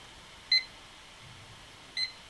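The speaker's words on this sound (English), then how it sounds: "Starting the timer." An electronic auction timer gives two short, high beeps about one and a half seconds apart, clear and alone over a quiet background hiss.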